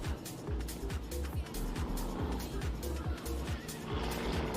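Class 5 Toyota Hilux race truck at a Kalgoorlie race, its engine running rough and unhealthy with rapid repeated low pulses and bursts, loud and fairly close throughout.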